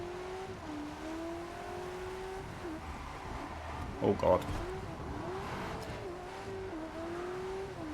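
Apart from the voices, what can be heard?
Ferrari 488 Pista engine accelerating in Test Drive Unlimited video game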